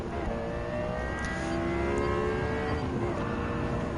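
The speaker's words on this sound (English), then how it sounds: "the V10 sound of the engine is roaring up the sound" The V10 engine of a Lexus LFA in Gran Turismo 7 roars steadily, a dense, sustained high-revving wail with rising harmonic sweeps, loud and continuous throughout.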